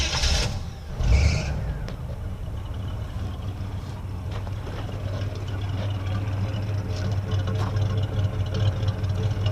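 A boat's stock engine idles steadily with quiet, tame mufflers, a low continuous rumble holding even throughout, with a brief louder clatter near the start.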